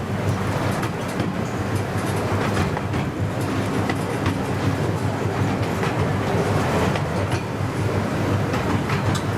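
Amusement park train ride at Drayton Manor, with a steady rolling rumble and rhythmic clickety-clack of wheels on rail joints, carriages rattling continuously close by with no talk.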